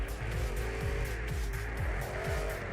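A sports car drifting in the video game CarX Drift Racing gives a steady, loud engine drone with rising and falling revs and tire squeals, heard alone with no talking.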